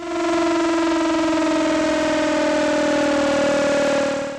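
A civil defense siren mounted on the PWD building near ITO in Delhi wails loudly and continuously, a steady droning tone that sags slightly in pitch, with no voices over it.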